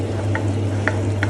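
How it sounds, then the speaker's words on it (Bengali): Ground spices for a spicy prawn curry are sautéed in a pan, giving a dense, even frying sizzle with a low steady hum and three short stirring scrapes, close and loud. "এবার মশলাগুলোকে খুব ভালো করে কষিয়ে নিব"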